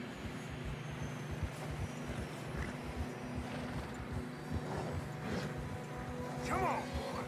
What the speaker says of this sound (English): Horse, struggling.